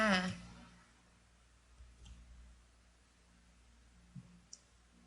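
A computer mouse gives a couple of soft, quiet clicks in a hushed room, following a brief burst of voice at the start.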